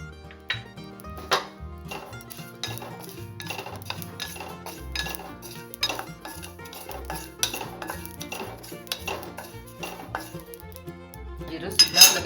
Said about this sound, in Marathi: त्यात आता आपण शहाजिरं भाजून घेऊ.